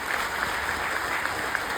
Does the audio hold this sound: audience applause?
yes